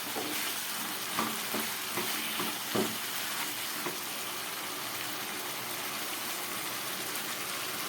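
Chicken pieces sizzle and fry in a hot pan as they are stirred, a constant loud hiss broken by a few scraping knocks in the first few seconds, with no voices.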